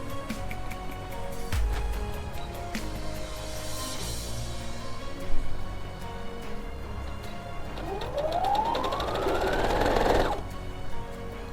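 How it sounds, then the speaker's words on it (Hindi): A sewing machine stitches a saree being turned into a lehenga, running in a close, rapid mechanical rattle with short pauses and restarts, and a rising whir near the end as it speeds up. "यानी हम यहाँ पे एक सिलाई लगाएंगे और 2 से 3 इंच आप नीचे यहाँ पर सिलाई लगाएंगे।"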